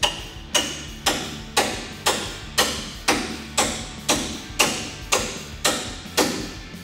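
A hammer strikes a front strut on a 2009-2018 RAM 1500 pickup, driving it into place during a leveling kit install: twelve evenly spaced, ringing metallic blows about half a second apart, close and loud, with no speech.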